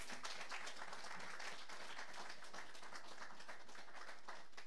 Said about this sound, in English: give those who've gone before me a big round of applause